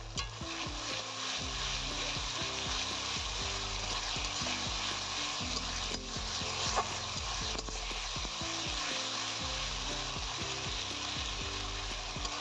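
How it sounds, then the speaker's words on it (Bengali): Spice paste for a chicken curry sizzles and fries steadily in a pan, with scraping stir strokes over a continuous loud crackle and no talking. "তো মশলাটাকে ভালো করে কষিয়ে নিচ্ছি।"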